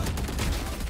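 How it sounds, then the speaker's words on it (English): Rapid gunfire in the video game Valorant strikes the player, a dense, loud volley of sharp shots that rattles on without pause for about a second. "Oh, I'm getting shot."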